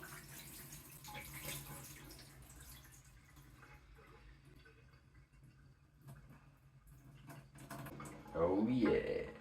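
Water is drained off washed pomegranate seeds, a soft trickle and drip that grows into a louder pour near the end, faint and close, with a voice speaking over parts of it.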